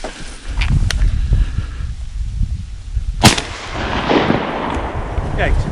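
Shotgun blasts ring out on a duck hunt: a sharp shot early on, then a louder, closer crack about three seconds in, over wind and rustling outdoor background noise.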